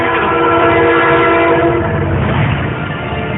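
A loud train sound effect played during a street play: a sustained horn blast over a heavy rolling rumble that fades slightly toward the end.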